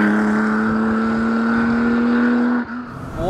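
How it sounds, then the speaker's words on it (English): A vintage Porsche 911 Rennsport engine pulls hard at a steady, rising drone, loud and close, then cuts briefly as a gear changes before climbing again. "along with the sound of the engine"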